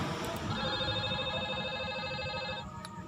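Simulated IP phone ringing in a Cisco Packet Tracer VoIP network after extension 112 dials 111, a steady electronic ring tone sustained for about two seconds over a constant background hiss, with no talking.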